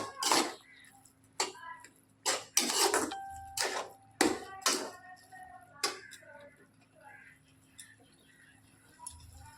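A spoon stirs chili, ginger and garlic paste frying in a pan, giving sharp, irregular metallic clanks and scrapes in short bursts separated by quiet gaps, close and fairly faint, with an occasional cough.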